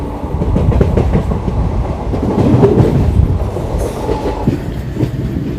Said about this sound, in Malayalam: ഇതാ കോയമ്പത്തൂർ ജംഗ്ഷൻ റെയിൽവേ സ്റ്റേഷനിലേക്ക് കോയമ്പത്തൂർ ഇൻ്റർസിറ്റി സൂപ്പർ ഫാസ്റ്റ് എത്തിക്കൊണ്ടിരിക്കുകയാണ്